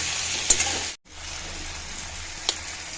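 Onions and pumpkin frying in a pan, a steady close sizzle with a brief interruption and a couple of light stirring clinks.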